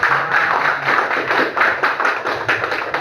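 A group claps in a steady patter of applause, fairly close, with uneven bursts of hand claps and no talking.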